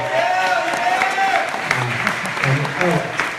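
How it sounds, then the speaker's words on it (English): A crowd applauds steadily while a voice talks over the clapping at a school board campaign event. "give him a round of applause"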